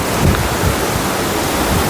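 A waterfall pours down like a shower along a mountain road toward Darchula near the India–Nepal border, a steady, loud broadband rush of falling water filling the whole clip with no voices.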